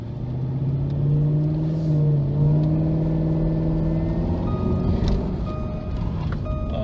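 Car engine revved hard during a walk around at a dealer auction, a steady loud drone that climbs and falls in pitch over several seconds, with no talking over it.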